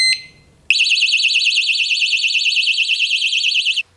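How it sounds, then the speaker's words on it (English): A brief beep, then a loud, piercing 120-decibel siren from a Kovix KNX10 alarmed disc lock wails continuously for about three seconds before cutting off abruptly. "and then you'll get the 120 decibel alarm"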